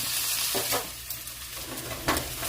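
Dried fish and ivy gourd sauté in a pan, a continuous close sizzle with a few soft scraping stirs.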